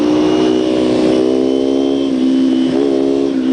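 A Kawasaki Ninja 250 motorcycle fitted with an aftermarket exhaust pipe holds a steady, buzzy engine note close by, with only a slight wobble in pitch near the end.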